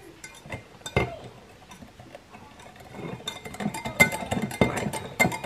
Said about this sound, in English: now we are gonna mix very slowly on the eggy mixture